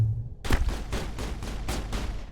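Rapid gunfire in the video game Mass Effect: a series of about six sharp, evenly spaced shots in quick succession, fairly loud and close, with no talk over them.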